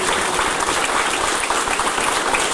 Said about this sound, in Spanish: yo pido un fuerte aplauso para todos ellos que nos han dado su apoyo